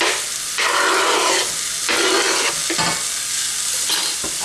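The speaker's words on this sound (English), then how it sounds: "I'm going to continue frying these now until these start to soften as well." Vegetables sizzle and hiss steadily in a frying pan, loud and close, with stirring scrapes swelling the sizzle in bursts.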